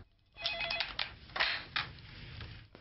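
Telephone ringing alone in a quiet room, a few bright electronic ring bursts repeating over nearly three seconds with no talk.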